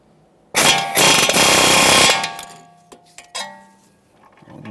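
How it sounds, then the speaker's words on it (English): Air hammer rattles in one loud, close, continuous burst against the steering knuckle of a 2014-2019 Toyota Corolla during a front lower ball joint replacement, then stops, followed by a few light metallic clinks. "I have an air hammer, so I'm going to use that."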